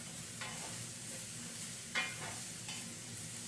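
Onions sautéing in a pan for caramelized-onion flatbread: a soft, steady sizzle with three brief stirring scrapes, faint and close, no voices.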